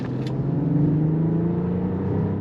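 A 2023 Mercedes-Benz S580e W223 S-Class in sport mode at full throttle, with a smooth, steady engine drone and rising rumble heard from inside the car for a couple of seconds, with no talking.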